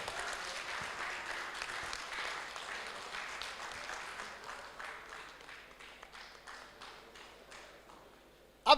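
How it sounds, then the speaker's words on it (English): Audience applause at an oncology award ceremony for second-place prize winners, a sustained wash of many hands clapping that thins out toward the end, with a sharp loud knock at the close. "So big clap for them."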